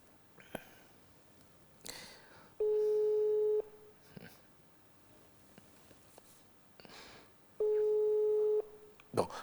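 A telephone busy signal, two loud steady tones about a second long separated by several seconds, with faint rustling, sniffs and brief indistinct speech in between.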